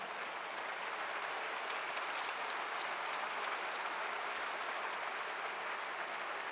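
An audience at a formal event in Côte d'Ivoire claps, and the applause stays steady and sustained throughout, with no voices over it.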